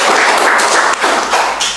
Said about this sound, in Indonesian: Boleh diberi tepuk tangan untuk Mbak Dewi.